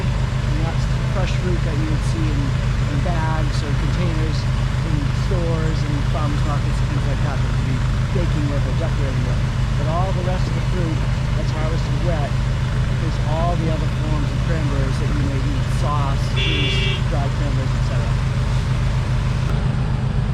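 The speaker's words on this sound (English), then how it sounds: "So you can probably hear that pump running in the background." A pump sucks cranberries out of a flooded Massachusetts bog into a truck during the wet harvest, giving a constant low mechanical drone beneath continuous nearby talking.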